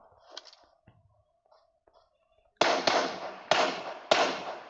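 Faint murmuring, then three loud, sharp video game explosion blasts in quick succession, each crack trailing off with a short rumbling decay, close by.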